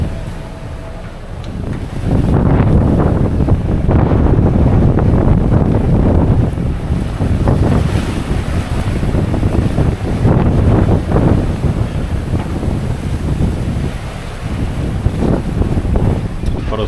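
Strong wind at sea buffets the microphone in loud, continuous gusts on a sailboat in 30+ knot winds, with a rushing broadband roar and occasional sharper blasts throughout.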